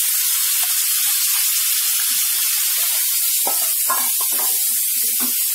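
Potato and sweet corn fry in a pan for an aloo corn fry, giving a steady, loud hiss and sizzle throughout, with a few soft scraping stirs near the end.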